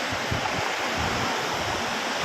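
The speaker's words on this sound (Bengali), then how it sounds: "বৃষ্টি হচ্ছে, ভালো হয়েছে।" Steady rain pours down outdoors in Bangladesh, a dense, even rushing hiss with no breaks, fairly loud and alone.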